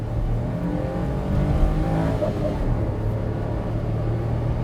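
A Suzuki Super Carry kei truck drives under acceleration, its small engine giving a steady, close, rumbling drone with slight rises in pitch and no clear pauses.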